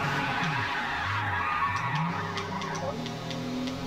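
Renault Clio front-wheel-drive race car tires skidding as the rear snaps into oversteer in Forza Motorsport, a continuous engine drone with wavering squeal tones running steadily for several seconds.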